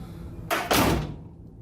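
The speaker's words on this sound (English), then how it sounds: "Here, listen to his door close." A Datsun 280Z door, fitted with new Skillard interior parts, swings shut with a close, solid thunk and a quick latch follow-up, alone in a quiet space.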